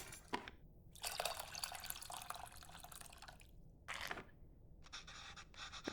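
Tamarind water dripping and being poured into a bowl, a run of close liquid splashes and trickles broken by short pauses, with no talking.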